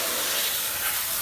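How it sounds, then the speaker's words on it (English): A garden hose sprays water into a car's wheel wells, producing a steady, close broadband hiss with no talking. "Spray down the wheel wells first."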